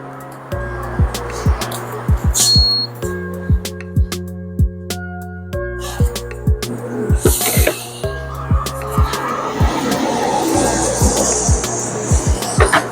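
Tyre spinning up on a wheel balancing machine, checked a second time after weights go on to cure a shaking steering wheel; a steady low mechanical whir with repeated sharp taps and clicks, loud and close, with brief voices at times.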